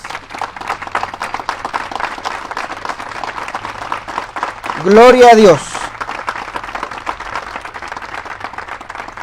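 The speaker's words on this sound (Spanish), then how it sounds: "Dele ofrenda de palmas al Rey de Reyes." A church congregation applauds throughout, steady clapping beneath a preacher's voice, with a brief shouted exclamation from the preacher rising above the clapping midway.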